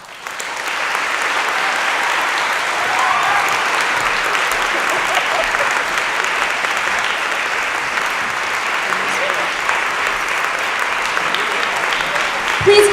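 Sustained, steady applause from an audience giving an ovation to the panelists and moderator at a panel event. The dense clapping holds at an even loudness throughout and continues without a break.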